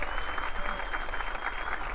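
Audience applause for the narrator at a theatre presentation of Les Misérables, a steady, dense clapping from a sizeable crowd that holds throughout.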